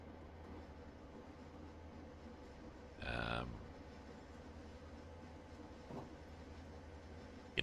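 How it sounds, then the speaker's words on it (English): A single heavy clunk of train wheels in Train Simulator 2020, standing out briefly over a quiet, steady rolling rumble, with a fainter knock a few seconds later. "You can hear the sort of clunk, clunk, clunk of the wheels"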